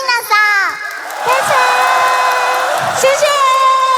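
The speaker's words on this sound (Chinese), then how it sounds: "让我们再一次把掌声送给从日本远道而来的2位小姐姐" Crowd at a Vocaloid live concert cheering and shrieking with high excited voices, loud sustained whoops swelling and falling, with clapping buried underneath.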